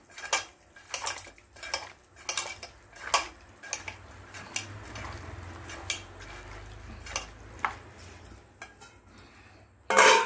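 Half a kilo of chicken is mixed by hand with salt, chili powder and turmeric, with repeated close clinks and scrapes of utensil against dish in an uneven rhythm and no talk.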